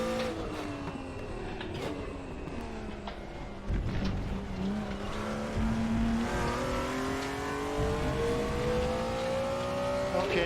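A BMW M1 Procar races in the RaceRoom sim, its engine revving up through the gears with rising tones, a short drop at a shift, then a steady loud high-rev drone, close and continuous with no talk.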